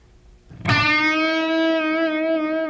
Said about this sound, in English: Now let's add a vibrato bend.